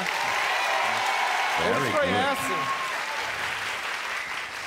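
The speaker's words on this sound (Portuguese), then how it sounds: "Vocês nem sabem quem é o cara e estão tá aplaudindo." Studio audience on a late-night talk show applauding steadily while someone speaks over the clapping and a brief tonal cheer rises midway.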